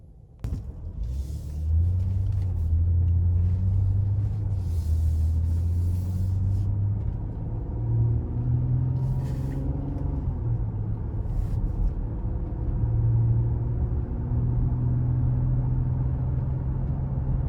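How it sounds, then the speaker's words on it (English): A 2022 Nissan Pathfinder Platinum driving on the road, heard from inside the cabin as a steady low engine and road rumble that rises and falls gently with throttle, with faint wind and tire noise and no talking. "next we're gonna go ahead and take this all new 2022 Pathfinder out on the road for a quick test drive"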